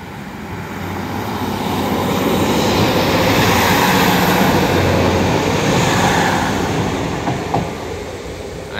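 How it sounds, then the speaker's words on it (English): Train rolling through a level crossing, a loud broad rumble that swells, holds and slowly fades as it passes close by. "Here comes the train,"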